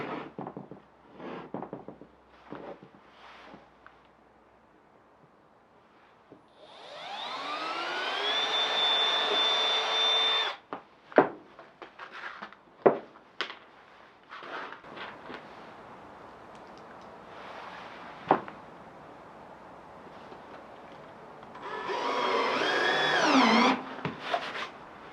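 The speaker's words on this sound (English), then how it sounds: "So I'm starting to put in screws, just simply doing a little pre-drilling and then dropping them in." A power drill pre-drills holes and drives screws into a van's subfloor, with a long whining burst, several short sharp knocks and another drilling burst near the end, separated by quiet gaps.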